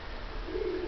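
A breeding pigeon gives a low, steady coo that swells in the second half, close and alone with no talk over it.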